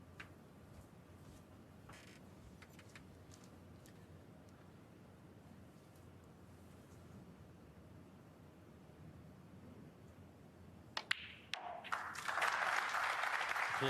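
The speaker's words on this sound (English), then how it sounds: "Applause for frame ball." Applause breaks out for frame ball at a snooker semi-final of the Riyadh Masters 2024 between Luca Brecel and Mark Allen, swelling suddenly near the end after a long, quiet arena hush.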